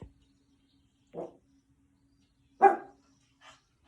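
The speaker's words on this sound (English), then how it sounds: "3 more breaths here while my dog Frisbee barks in the background" A dog barks a few times, isolated, slightly distant woofs separated by quiet gaps, with a soft steady hum underneath.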